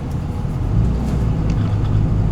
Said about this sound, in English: It makes it clack like a 12-valve.